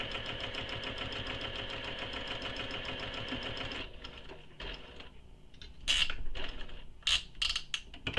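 A sewing machine stitches a backpack seam down toward a corner, running steadily and close for about four seconds, then falling quieter with short bursts and clicks as the stitching stops and starts.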